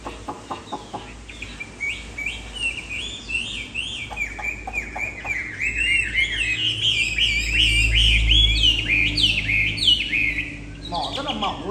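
A caged Chinese hwamei songbird sings a long, loud run of rapid whistled phrases and trills close by, with short pauses and a few clucking notes near the start.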